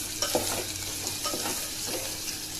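Onions fry with salt and turmeric for a potato palya, a dense, hissing sizzle close up with occasional stirring scrapes and clicks.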